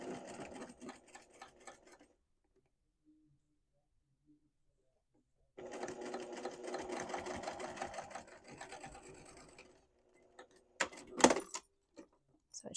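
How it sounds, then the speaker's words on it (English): A sewing machine whirs through two bursts of stitching fabric for a travel tissue holder, separated by a quiet pause, followed by a few scattered clicks and handling noises up close. "you're going to sew it at a 1/4 inch seam allowance, back stitching at the beginning and end"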